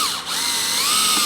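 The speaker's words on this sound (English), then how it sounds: "and we're just going to drill in" A power drill bores into a stripped Phillips screw head, giving a steady, close whirring whine with a slight dip in pitch early on, then running evenly to the end with no talking.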